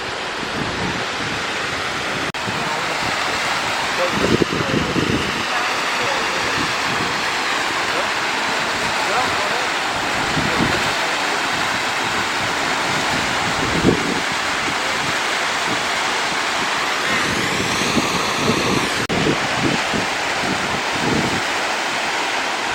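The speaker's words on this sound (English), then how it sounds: "Can hear the river below." The river flows below Narada Falls in a steady broadband rush of water, continuous and fairly loud, with occasional wind buffeting on the microphone and faint voices under it.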